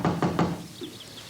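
Three sharp, evenly spaced knocks on a door, close and fairly loud, followed by a quiet room, in a TV drama scene.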